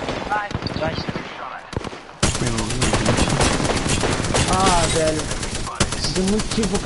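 Rapid, sustained gunfire rattles almost continuously through an Apex Legends fight on PS4 while voices talk over it.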